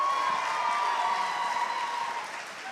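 An audience at a high school choir spring showcase keeps up a soft, even applause for a choir act, with a steady hum in the room underneath.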